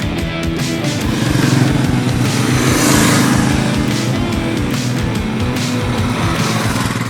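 A group of Royal Enfield motorcycles riding country lanes in Devon and Cornwall, a loud, steady thumping engine drone that swells slightly and holds, close and continuous with no talk.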